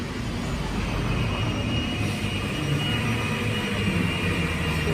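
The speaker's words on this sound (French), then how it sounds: "elle fait du bruit avec son blender" A blender whirs steadily throughout, making a strawberry milkshake in an ice cream shop in Toulouse. The broadband roar is continuous, loud and even, with no talk over it.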